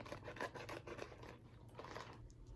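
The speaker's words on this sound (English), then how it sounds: "I'm just going to go ahead and cut this into the best circle I can with my scissors" Scissors cut construction paper into a circle for a galaxy craft, a quiet close series of rasping snips and rubbing scrapes with no talk.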